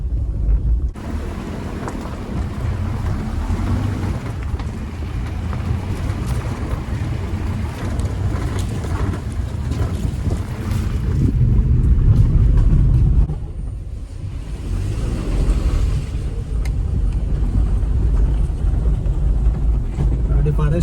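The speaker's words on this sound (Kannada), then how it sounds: "ಗ್ರೌಂಡ್ ಕ್ಲಿಯರೆನ್ಸ್ ಚೆನ್ನಾಗಿರೋದ್ರಿಂದ ಆರಾಮಾಗಿ ಹೋಗ್ತಾ ಇದೆ ಗಾಡಿ" Renault Kwid RXT hatchback driving off-road along a forest trail, a steady low engine and chassis rumble throughout with rough bumps and a louder surge midway, no speech.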